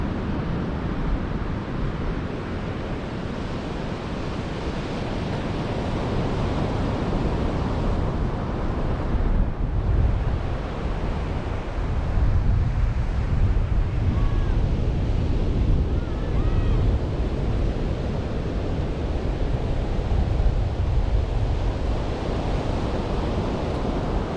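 Surf waves wash steadily onto a beach at night during a fishing trip, a continuous loud roar of breaking water mixed with wind buffeting the microphone, with no talking.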